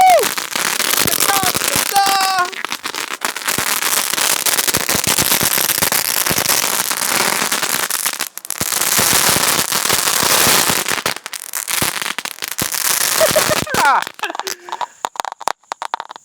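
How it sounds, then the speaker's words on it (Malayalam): A Thor's chitti firecracker is lit and crackles in a dense, loud, continuous stream of sharp pops lasting over ten seconds, with a few brief gaps, while people talk and laugh over it. "അപ്പോൾ നമ്മളിത് തീ കൊടുത്തു ഓ തോറിന്റെ ചിറ്റിക ഇങ്ങനെ കത്തുള്ളൂ"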